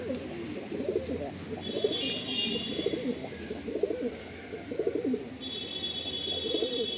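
Five loft pigeons, three males and two females, keep up a dense, rolling chorus of low throaty coos, rhythmic and close, with no speech over it.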